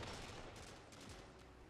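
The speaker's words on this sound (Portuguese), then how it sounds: "Um pulso que atira dois tiros" An exotic pulse rifle in Destiny 2 fires two-shot bursts, heard faintly as a rapid string of muffled cracks over dense game noise, with no speech.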